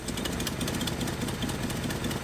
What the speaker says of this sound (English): Listen to how the idle changes when I shove this wire back into the connector.